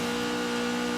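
A light rear-wheel-drive GT70 rally car in the game Forza Horizon 4 holds a steady, loud engine drone with a sustained turbo tone, constant and unbroken for the whole moment.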